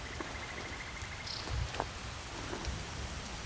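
Rain falling steadily in the video game Skyrim, a soft continuous patter with a few sharper drips standing out, faint and without speech.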